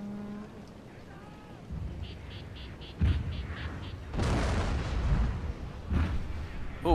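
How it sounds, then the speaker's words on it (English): Naval bombardment artillery in the Shogun 2 Fall of the Samurai battle game: several heavy booming blasts land from about the three-second mark onward, loud rumbling impacts piling over a quieter field of battle noise. "Here comes the naval bombardment."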